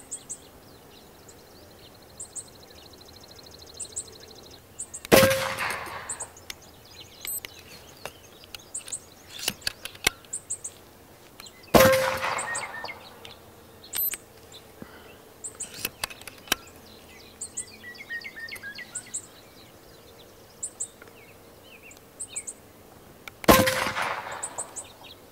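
An Evanix Tactical Sniper air rifle dry-fired without ammo gives three sharp metallic clangs spaced several seconds apart, each ringing briefly, with quieter mechanical clicks and faint bird chirps in between.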